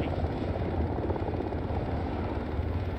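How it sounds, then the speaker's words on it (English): Helicopter flying in the military video game Arma 3, a continuous loud rotor and engine drone with no breaks, filling the whole stretch. "Helicopters."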